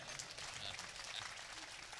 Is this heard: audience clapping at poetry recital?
yes